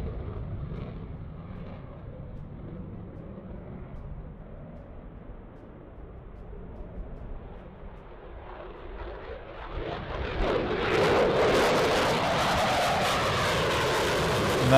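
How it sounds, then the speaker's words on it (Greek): A military airplane takes off at Souda airbase in Crete, its engine roar low and distant at first, then swelling to a loud, broad rushing drone over the last few seconds. "λίγο από την απογείωση"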